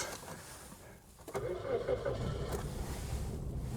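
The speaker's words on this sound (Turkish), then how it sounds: "Bujileri değiştirmemize rağmen yine aynı şekilde sarsıntılı çalışmaya devam ediyor." A Nissan Pixo engine cranks and catches after new spark plugs and an air filter, then keeps running with an uneven, shaky idle. The engine noise is close and steady.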